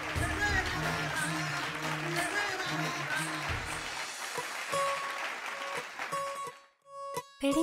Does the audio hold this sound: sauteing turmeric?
no